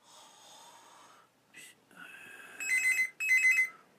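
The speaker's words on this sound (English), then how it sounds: "Is the bloody phone going?" A telephone rings in the middle of the night in a quiet room, first with a few scattered electronic chirps and tones, then with two loud, bright trilling ring bursts in close succession.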